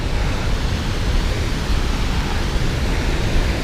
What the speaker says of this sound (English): there's a whole nother layer of waterfalls above it